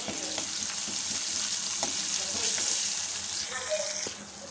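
Asafoetida, curry leaves and a slit green chili crackle in hot oil as a tempering, a dense continuous sizzle with scattered pops and spoon taps that eases off at the very end.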